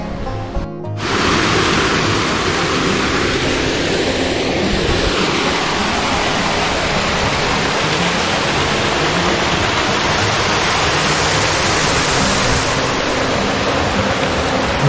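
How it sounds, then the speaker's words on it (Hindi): Water pouring out from inside a mountain onto a blocked trail, a loud, steady rushing roar like a waterfall, heard close and continuous with a brief thump at the start. "यहाँ देखिए पहाड़ के अंदर से पानी आता है और रास्ता बिल्कुल ब्लॉक हो गया"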